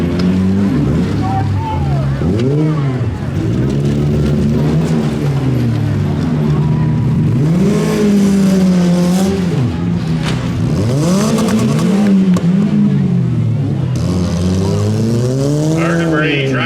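Demolition derby car engines snarl and rev repeatedly, rising and falling in pitch as battered cars with worn transmissions push and ram, loud and close under an announcer's commentary.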